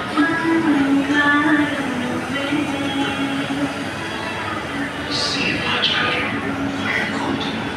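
A train rumbles at Tirupati railway station with steady low noise, a faint squeal and background voices of people talking nearby.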